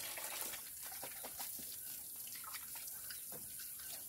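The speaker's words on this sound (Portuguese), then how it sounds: "você liga essa água nossa aqui, é de poço artesiano" Artesian well water runs steadily from a tap on a rural property, a faint continuous splashing and trickling with no voices.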